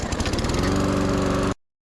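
A brand-new gas lawn mower engine runs loud and steady up close with a rapid, buzzing pulse, then cuts off abruptly into silence.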